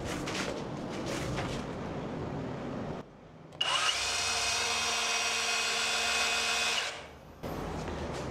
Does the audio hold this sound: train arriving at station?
no